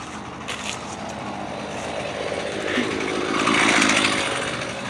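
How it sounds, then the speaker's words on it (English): A chainsaw runs steadily throughout, its buzzing drone growing louder toward the end as though drawing nearer, with no talk over it. "No, it's chainsaw."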